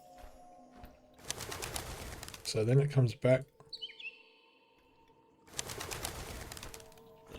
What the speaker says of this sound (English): The bird was unafraid when you entered, but as you approach, it becomes disturbed.